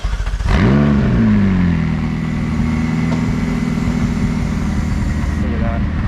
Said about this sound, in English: You can hear the turbos full. Rough, give me a little rev. That sounds amazing.